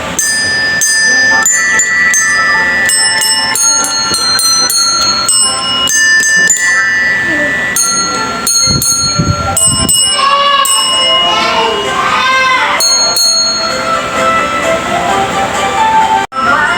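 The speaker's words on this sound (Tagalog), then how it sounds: "Ring the bell." A small bell rings again and again in quick bursts during a special-education tutoring session, its bright repeated dings continuing throughout with little pause.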